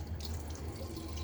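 Cold water runs from a bathroom tap for a wet shave, a soft steady splashing stream heard close and fairly quiet for a brief moment.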